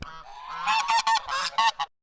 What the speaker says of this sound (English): there's gonna be geese honking after this